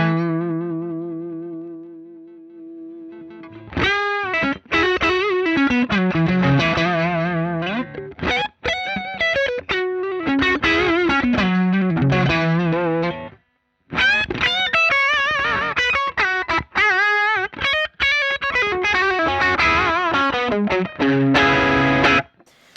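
An electric guitar plays through an SD1 overdrive model in the Mercuriall SS-11X plugin, giving a smooth, lightly driven bluesy tone. A sustained chord opens, then loud, steady lead phrases follow with short pauses.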